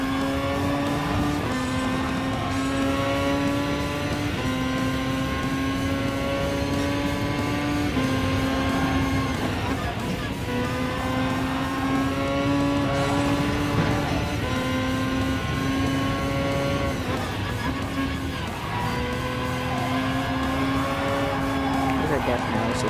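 A race car engine in a VR racing game drones loudly and steadily, its pitch climbing and dropping through repeated gear shifts, with someone talking over it.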